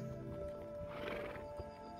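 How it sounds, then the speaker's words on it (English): A horse whinnies in a long, rising-and-falling neigh at moderate distance, with a few hoof clops and faint rural background around it. "I love the horses."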